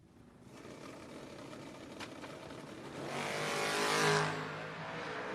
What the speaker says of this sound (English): Mean Green Nadine, the Duster, doing work.